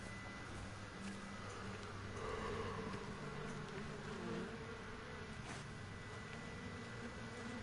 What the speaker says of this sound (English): Oh, I'm hearing buzzing